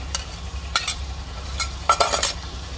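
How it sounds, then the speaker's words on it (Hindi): Mutton liver coated with yogurt sizzles in a pan, with a few sharp metallic spoon scrapes and clinks from stirring over a low steady frying hiss. "ये हमारी कलेजी भूनी जा रही है, कलेजी बना रही हूँ दही लगा के।"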